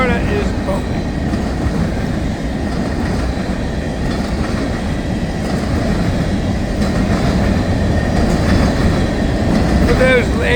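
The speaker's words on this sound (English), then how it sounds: "now we got another unit train" Freight unit train rolling past at Baldwin, west of Jacksonville, a steady loud rumble with wheel clatter holding throughout, close by, faint squeals near the end.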